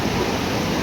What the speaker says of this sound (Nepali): खोला हेर्नुहोस् उक्लिएर